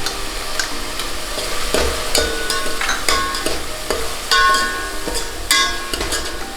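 Ginger and green chillies sauté in a pan for dum aloo, a steady loud sizzle broken by repeated scrapes and clinks of a spoon stirring, with no talk.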